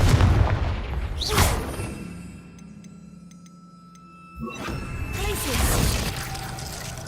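Confringo explosion spell in Hogwarts Legacy, a loud booming blast with crackling debris, a quieter stretch with faint ticking, then a second burst of rumbling impact, a voice heard at the start.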